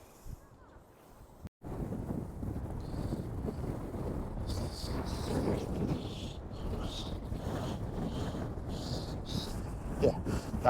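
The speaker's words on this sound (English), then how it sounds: "that is a bit blustery out there" Blustery wind buffets the microphone outdoors on a rough ferry crossing to the Isle of Man, a steady low roar with gusts that swell and fade across the whole stretch after a brief quiet start.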